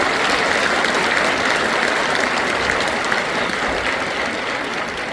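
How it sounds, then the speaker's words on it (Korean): Audience at a Korean anniversary ceremony and campaign briefing gives a loud, sustained round of applause, a dense wash of clapping that holds steady for several seconds with no voices over it. "이 자리에 참석해 주신 모든 분들께 다시 한번 뜨거운 박수 부탁드리겠습니다"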